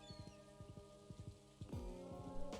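Soft, quiet rain patters steadily on a rainy day in the Stardew Valley video game, beneath gentle plucked background music, with no talking.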